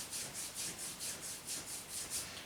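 Fingers and hands are rubbed briskly together during a self-massage routine, making a soft, steady swishing friction in an even back-and-forth rhythm of about ten strokes, close and alone.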